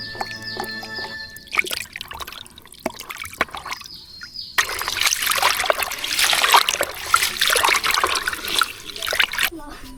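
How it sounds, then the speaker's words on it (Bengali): Pieces of rohu fish are washed by hand in water, giving sustained splashing and sloshing after a few seconds of quieter clinks and movement, with a voice talking at times. "মাছগুলো ধুয়ে নেব"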